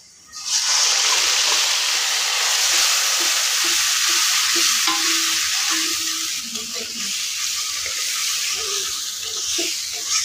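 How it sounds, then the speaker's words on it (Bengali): Onions and masala sizzle and fry steadily in a pan, a dense continuous hiss with occasional stirring clinks and splatters, loud and close throughout with no talking. "এদিকে আমি পেঁয়াজ লাল লাল করে ভাজে নিচ্ছি, এখন মশলাটা দিয়ে নিতেছি।"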